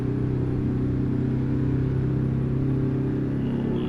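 A heavy truck engine in American Truck Simulator hauls up a fairly steep hill, a steady low drone with strong harmonic rumble that holds constant and loud throughout, with no talking.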